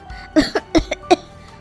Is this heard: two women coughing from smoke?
yes